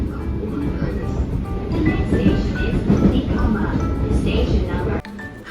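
A train on the line to Nara rumbles steadily up close from inside, a broad continuous roar with faint rattling and a soft tonal whine, ending in an abrupt drop near the end.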